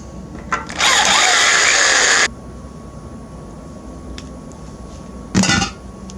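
A power drill driving self-tapping screws while wiring a boat, heard as a loud, close, steady whine lasting over a second, a quiet pause, then a second short burst.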